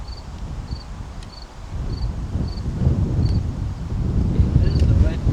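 Strong outdoor wind roars and buffets steadily during an archery deer hunt, building louder toward the end, with a faint repeating high chirp like an insect in the background.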